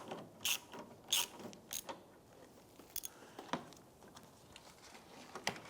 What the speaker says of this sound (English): we're going to use our 10mm socket, swivel and extensions, and loosen the nut from this side here